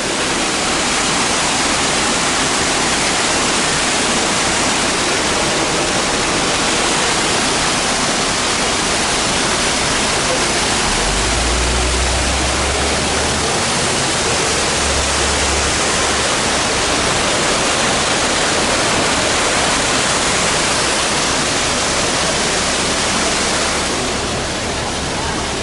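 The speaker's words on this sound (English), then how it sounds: "A beautiful waterfall." A waterfall near Ketchikan, Alaska roars as a loud, unbroken rush of water, steady and close for the whole stretch, with no talk.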